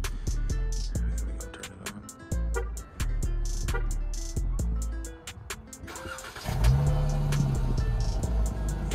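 A Dodge Charger sits with a run of clicks and thumps before its engine fires up near the end and settles into a steady, loud, low idle close by.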